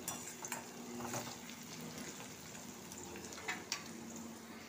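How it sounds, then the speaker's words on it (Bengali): Onions frying in a pan until browned for a chicken korma: a soft, steady sizzle with occasional faint clinks and stirring scrapes, quiet and continuous throughout. "পেঁয়াজটাকে আমি লাল করে ভেজে নেব"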